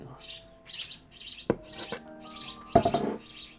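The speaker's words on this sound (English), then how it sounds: "My neighborhood birds have now had babies." Neighborhood birds chirp outdoors in a quick series of bright, short tweets, with a few sharp clicks and knocks mixed among them.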